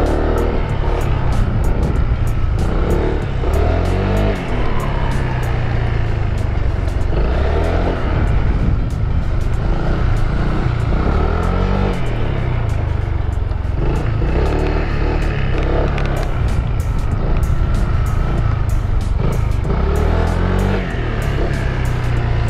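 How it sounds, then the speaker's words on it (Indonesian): A 2023 Honda Vario 160 scooter engine revs hard while riding, a loud, steady drone that swells and dips with the throttle, with wind noise throughout. "Si mesinnya juga enak, bisa pakai santai, bisa dipakai geber-geber kayak gini bisa"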